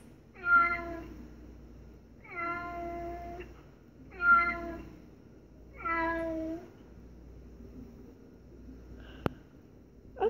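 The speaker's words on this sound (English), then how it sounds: "A cat sounds like this." Four clear cat meows from a Google Home smart speaker spaced about two seconds apart, each a drawn-out harmonic cry, fairly close, followed by a brief click near the end.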